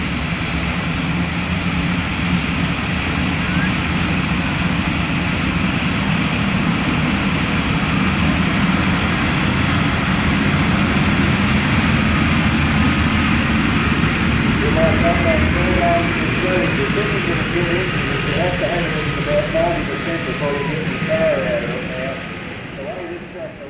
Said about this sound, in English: like with most of the jet-based engines, they tend to take a little while to come on, and then they come on like a house on fire